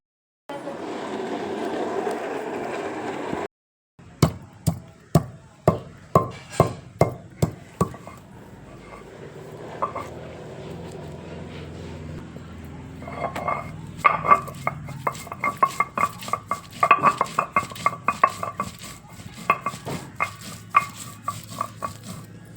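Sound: grinding masala paste

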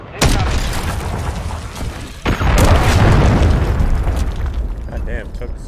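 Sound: cruise missile explosion in a video game

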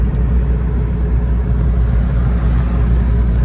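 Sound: Mitsubishi Pajero Gen1 car driving, interior

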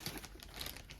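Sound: product being taken out of a plastic shipping bag

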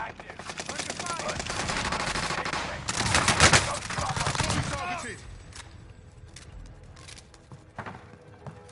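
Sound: gunfire in the video game Call of Duty Warzone

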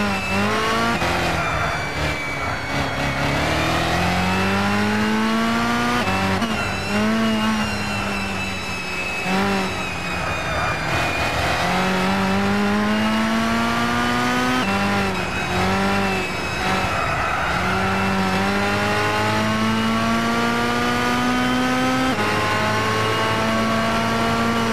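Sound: race car engine revving in Gran Turismo 6 video game

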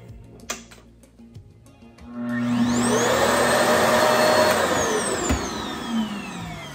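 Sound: Revair hair dryer running, knob on 6

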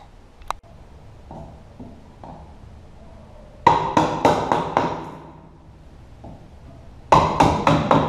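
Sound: tapping with the back of a hammer

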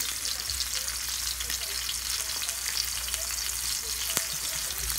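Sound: ribeye steak frying in a cast iron pan

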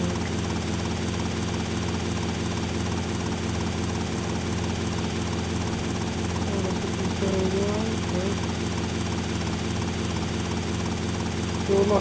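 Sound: helicopter flying in video game GTA Vice City

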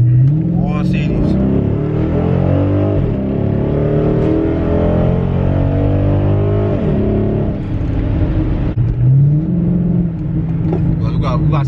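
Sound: tuned Dodge Charger SRT8 Super Bee engine revving

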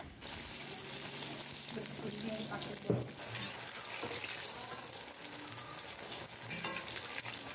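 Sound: eggplant frying in oil

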